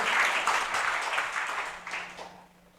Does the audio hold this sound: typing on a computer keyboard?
no